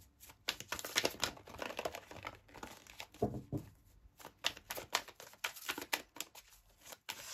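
Tarot cards of an unusual, stiff special material being drawn from an Oracle Poésis deck, giving close, dry crinkling rustles and sharp papery clicks in irregular bursts with brief pauses, no voices.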